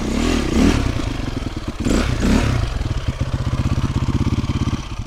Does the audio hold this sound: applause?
no